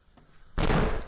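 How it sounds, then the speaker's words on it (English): After a quiet moment, a sudden loud bang like a door slamming shut, followed by a short ringing echo. "it was just a door slamming shut"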